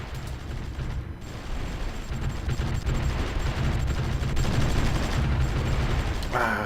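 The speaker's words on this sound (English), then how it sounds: "Ah, damn, this artillery is brutal." Artillery fire from the strategy war game Supreme Ruler Ultimate rumbles as a dense, continuous barrage of overlapping booms and crackles, steady and loud throughout.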